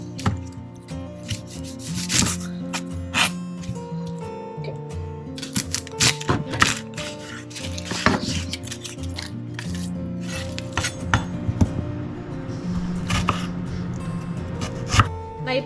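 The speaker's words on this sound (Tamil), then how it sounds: "நான் இப்போ வெங்காயம் வெட்டிட்டு இருக்கேன் ரைத்தாவுக்கு." Onions being chopped on a cutting board for raita in a home kitchen, giving irregular knife taps and wooden board knocks over a steady background hum, close and moderately loud.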